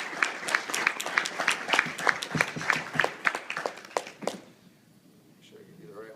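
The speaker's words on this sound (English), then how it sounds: "give him a round of applause" Brief applause and clapping from an audience at an award announcement for a third-place cannabis seed entry, dense claps for about four seconds then fading to quiet room noise.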